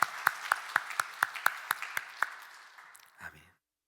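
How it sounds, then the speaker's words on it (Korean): About nine sharp, evenly spaced claps ring out in a reverberant church during a Sunday morning service, slowing and fading, followed by a brief low murmur. "우리 하나님께 감사와 영광의 박수 올려드리겠습니다."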